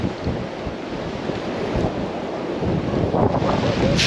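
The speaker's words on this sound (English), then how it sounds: "It's a bit windy and moist" Gusty coastal wind at Dover buffets the microphone in a steady, loud roar that swells near the end, with no voices.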